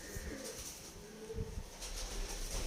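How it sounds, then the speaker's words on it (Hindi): Pigeons in flight over Lahore's Shad Bagh during a pigeon-flying contest, faint cooing and soft bird sounds drifting across a breezy open-air background, low and distant throughout. "अभी तो माशाल्लाह से सब कबूतर आसमान की तरफ जा रहे हैं।"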